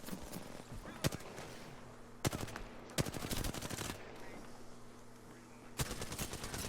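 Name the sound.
gunfire in an Xbox video game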